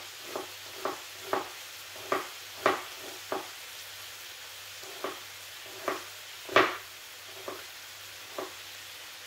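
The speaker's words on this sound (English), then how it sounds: "We're gonna add some onion to the frying pan." Diced onion going into a hot frying pan after browned beef for beef stroganoff, giving a quiet, steady sizzle broken by a dozen or so sharper crackles and scrapes from stirring, with no talking.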